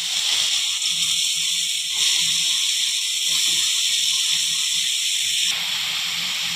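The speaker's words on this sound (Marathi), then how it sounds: "आता याच तुपात आपल्याला किसलेला गाजर घालायचा आहे।" Grated carrot hitting hot ghee for carrot halwa, a loud, close, continuous sizzle and hiss that holds steady throughout with slight surges.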